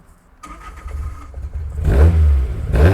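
A 1971 Datsun 510's engine cranks and catches, then revs hard twice, the second burst shorter, close and loud with no talking.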